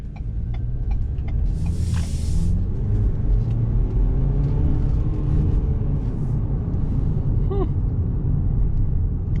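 2024 Ford Bronco Sport Badlands driving on the road in sport mode, a steady interior rumble of engine and road noise, loud and continuous, with a brief sharp hiss and light clicks.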